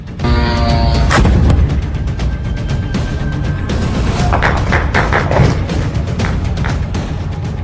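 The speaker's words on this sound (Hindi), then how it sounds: "धमाकों से गूंज उठी मनामा की रात" A series of heavy missile-strike explosions, booms and thuds with some sharp cracks among them, echo through the night over Manama with a distant rumbling backdrop.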